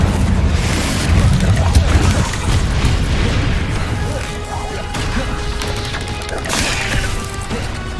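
Loud Confringo fire spell blasts in Hogwarts Legacy combat, heavy booming explosions and crashing impacts layered over continuous game action noise, with a voice calling out under the clamour.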